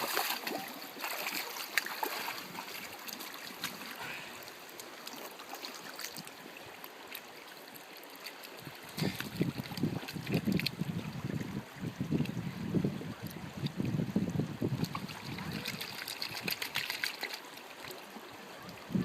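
Gravel swirls and shakes in a gold pan held in water, producing sloshing, trickling water with intermittent gritty rattling that grows busier in the second half, moderately close and with no talk.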